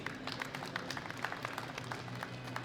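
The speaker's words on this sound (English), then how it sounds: "Big round of applause for Farshid Soltani." A crowd claps for an official at a medal ceremony during the 2017 World Classic Powerlifting Championships, a soft, even patter of scattered hand claps heard from some distance.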